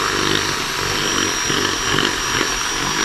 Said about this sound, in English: he's reamed it with a drill bit